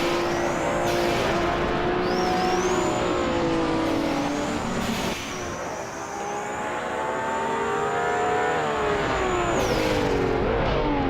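Racing cars in a video game, led by a 1978 Ferrari 512 BB launching from pole, roar loudly and continuously as the engine revs rise and shift, with a high whine layered over the pack.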